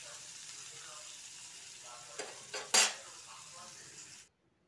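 Eggs and onions, seasoned with salt and turmeric, fry in a pan with a steady sizzle, broken by a few brief clinks of a utensil stirring against the pan, before the sound cuts off abruptly.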